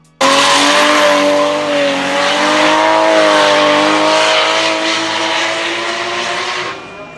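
A Nissan Skyline's stock engine revs loudly and close, holding a high droning pitch with tire squeal layered in before cutting off abruptly near the end.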